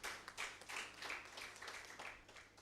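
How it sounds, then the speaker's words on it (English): An audience at a business conference applauds a speaker with a modest, fairly faint round of individual claps, distinct and slightly uneven in rhythm. "A round of applause for Nicholas, ladies and gentlemen."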